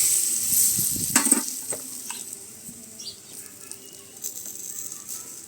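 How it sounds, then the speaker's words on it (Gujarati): Lemon juice and sugar are stirred into a sautéed paste in a village kitchen, giving a soft, steady scraping and sizzle, with a brief louder stir near the start and quieter mixing after. "ખાંડ અને બધું સરસ રીતે આપણે મિક્સ કરી લઈશું."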